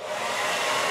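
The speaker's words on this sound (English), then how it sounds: "whip out the hairdryer to speed up the paint drying on these leaves" A hair dryer drying paint on painted leaves blows with a steady, loud whooshing roar from start to finish, close by and with no talking.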